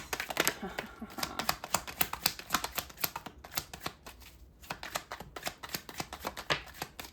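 Tarot cards are shuffled and drawn close up in a fast, uneven run of crisp riffling snaps and flicks, with brief pauses between bursts and no talk.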